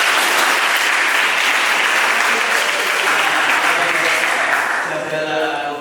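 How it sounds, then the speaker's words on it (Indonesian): Loud, dense applause from a crowd of students in an Islamic religious education class, continuous and close, tapering slightly near the end as voices start to emerge. "Kita kasih tepuk tangan."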